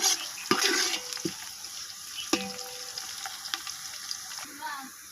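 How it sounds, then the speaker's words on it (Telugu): Whole garam masala, onions and green chillies fry in hot oil, the sizzle crackling under repeated scrapes and clinks of a stirring spoon against the pan, fairly close and moderately loud. "ఇక్కడ ఆయిల్లో మనము హోల్ గరం మసాలా, అలాగే ఉల్లిపాయలు, పచ్చిమిర్చి వేయించుకున్నాము"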